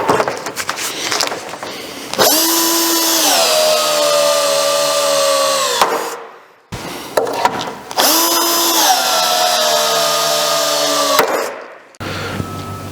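Power tool whirring on a panel of a Mazda MX5 NB during rust repair, two long sustained runs with a pitch that dips as it works, loud and close with a brief pause between runs.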